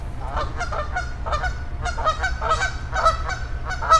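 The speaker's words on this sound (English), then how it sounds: "Got that goose excited." A goose honks excitedly again and again near a fishing spot, loud and close, in bursts of harsh calls over a steady low rumble.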